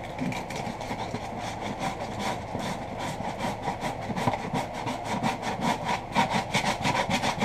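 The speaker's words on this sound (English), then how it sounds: "on the inside I take a little bit of sandpaper" Rough sandpaper scrubs the inside of a clean, dry plastic live bait bucket in quick, steady back-and-forth strokes, a close, continuous rasping with no talk.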